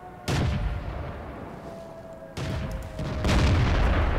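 Artillery fire in the World of Tanks video game: three heavy booming shots, the first sharp and loud, followed by two more close together near the end, over a steady low rumbling background.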